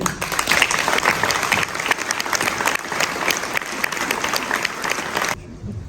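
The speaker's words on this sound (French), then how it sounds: "Je vous remercie d'accueillir ou d'applaudir Madame Morgane Eden." Steady, dense applause from a large crowd at a public campaign meeting, loud and continuous for several seconds before cutting off abruptly near the end.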